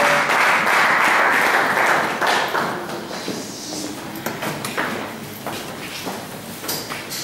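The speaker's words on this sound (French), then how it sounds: "Acclamons très fort le roi de Père." Applause from a church congregation during a French-language service, a dense wash of clapping that swells loud at the start, then thins into scattered, uneven claps as it gradually fades.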